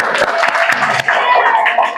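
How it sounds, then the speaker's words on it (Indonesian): Classroom applause from students during a lesson: dense, steady clapping from many hands filling the whole moment, with young voices mixed in. "Ya, betul, tepuk tangan."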